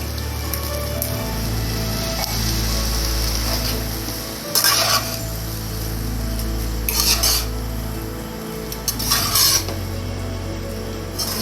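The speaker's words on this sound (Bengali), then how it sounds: "আস্তে আস্তে নাড়বো যাতে আমাদের রাইসগুলো সুন্দর থাকে।" A spoon stirring tomato rice with chana dal and spices in a pan, a gentle sizzle beneath repeated bursts of scraping and clinking metal against the pan, with a low steady hum running throughout.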